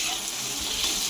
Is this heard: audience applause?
no